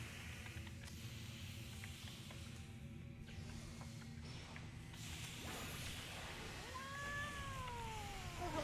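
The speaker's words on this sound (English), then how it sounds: "Oh, hello, cat." A cat gives a few faint meows over a low background rumble, rising and falling near the end of a quiet stretch.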